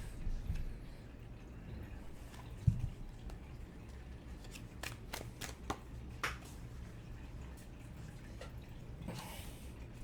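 Tarot cards flick and riffle in a short burst of crisp, papery snaps midway, over a steady low room hum with faint handling noises around it.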